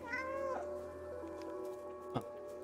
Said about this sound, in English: Oh, they meow with me?